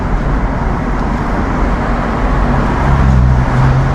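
A BMW Z3 2.8 roadster engine hums steadily from inside the car while driving, a continuous low drone mixed with road noise that swells slightly toward the end.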